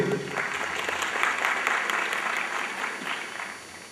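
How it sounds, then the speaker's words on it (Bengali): Sustained applause from an audience welcoming guests at a Saraswati Puja event at a Kushtia university, dense and even across the whole span and fading slightly toward the end. "আমরা তাদেরকে করতালির মাধ্যমে বরণ করে নিব"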